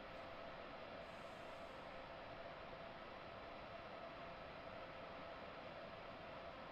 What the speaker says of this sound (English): hopefully you're hearing the train a little bit better on this video